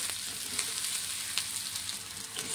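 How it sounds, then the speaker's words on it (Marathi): Onion sautés in a pan for poha, giving a steady, even sizzle with a few soft crackles and stirring scrapes. It is fairly quiet, and no one speaks. "कांदा आपल्याला जास्त लाल करायचा नाही आहे, थोडासा फक्त परतून घ्यायचा आहे."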